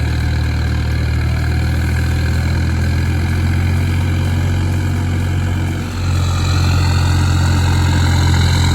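A Ford New Holland 4630 three-cylinder farm tractor engine idles steadily and loudly up close, a continuous low rumble with a slight shift in tone near the end, no voices.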